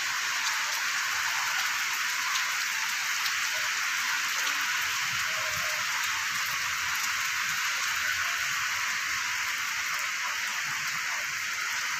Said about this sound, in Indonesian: keadaan hujan pun nampaknya panjang ini ya hujannya